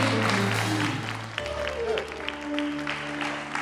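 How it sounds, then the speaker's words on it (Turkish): Studio audience applauding on a Turkish television matchmaking show, a fairly loud burst of clapping over background music that fades after about a second and a half, with talk continuing underneath. "Alkışlıyoruz Mustafa'yı."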